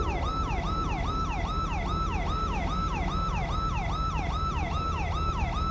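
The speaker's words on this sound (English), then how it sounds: "Wait, I gotta turn off the siren." A police car siren in GTA 5 wails continuously in fast, regular up-and-down sweeps over a steady engine hum, loud and unbroken for about six seconds.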